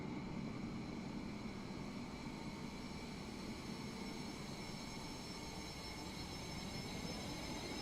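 Aircraft taxiing on the ground in Microsoft Flight Simulator 2024, a steady broadband engine drone with a sustained whine, continuous and fairly loud for the whole stretch, with no talking.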